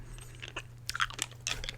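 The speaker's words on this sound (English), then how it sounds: "which is me chewing on cough drops" Crunching and chewing on cough drops close to the microphone, a few quick irregular bites and crackles over a low steady hum, with no talking.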